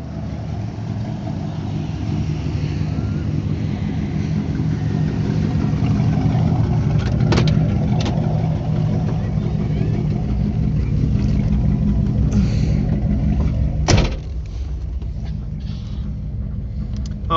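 A 1978 Pontiac Trans Am with a hood shaker cruises slowly, its engine a steady low rumble with mild surges and a few clicks and knocks from inside the cabin.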